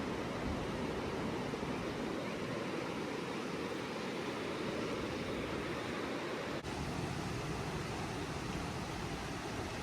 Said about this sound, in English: Y'all listen to the waterfall.